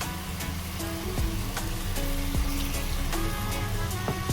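Potatoes go into a hot pan with bottle gourd and sizzle steadily at close range, with a few sharp clicks and knocks from the pan or utensil but no voices.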